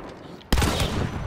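Shotgun firing flechette ammo in the video game Hunt: Showdown, one loud sudden blast halfway through with a long rumbling tail after a quiet lead-in.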